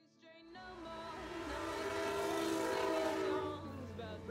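A train passing: the noise swells from quiet to a loud sustained roar with horn-like tonal layers, then eases off near the end.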